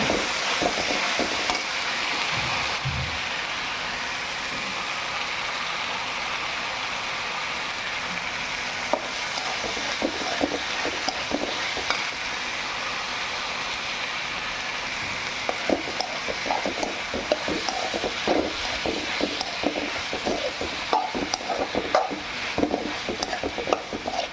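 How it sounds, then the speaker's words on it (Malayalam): Tomatoes for squid curry sauté in a hot pan, giving a continuous dense sizzle with frequent scraping stirs that grow busier later, close by and with no talking. "തക്കാളി മുഴുവൻ അതിലേക്ക് അടുപ്പയിലേക്ക് ഇട്ട് ചീനച്ചട്ടിയിലിട്ട് അതും ഒന്ന് വഴറ്റി വരണം."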